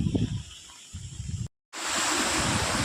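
Rushing floodwater flows through farm fields after several days of heavy rain, a broad hissing roar with wind buffeting the microphone, cut off by a brief silence before it resumes louder.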